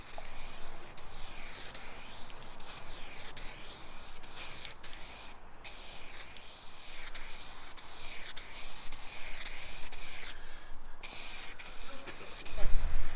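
Filler primer sprayed in coats onto a repaired car bumper: a steady hiss from the spray gun that runs almost the whole time, broken by two short pauses, with a thump near the end.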